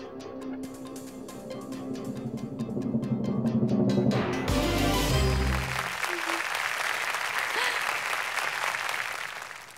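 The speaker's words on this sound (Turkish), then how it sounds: "Bu alkışlar hem size hem de Cengiz Küçükayvaz'a gelsin" A studio audience on a Turkish history quiz show breaks into steady, full applause after a bright musical sting, the clapping carrying on evenly to the end with no talking over it.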